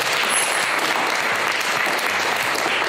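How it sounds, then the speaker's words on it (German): Dense audience applause, loud and continuous, a steady wash of many hands clapping at once without any voices on top. "dass ihr alle dabei wart, deswegen Applaus."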